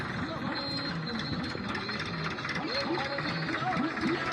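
A tractor working a cotton field during sowing, its engine running steadily and fairly close with a continuous mid-pitched drone and rattling vibration throughout, while people talk over it.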